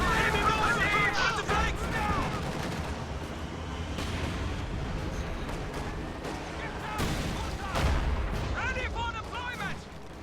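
Heavy cannon shots from a Jagdpanzer tank destroyer firing HEAT rounds in a video game, booming out at a few points amid dense, continuous battle noise, with a commentator's voice running underneath.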